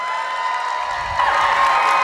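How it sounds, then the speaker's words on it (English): A convention panel crowd at Wizard World Cleveland breaks into applause and cheering for actor Cary Elwes, a steady wash of clapping that swells louder in the second half. "a huge Wizard World Cleveland round of applause for the one, the only, Mr. Cary Elwes!"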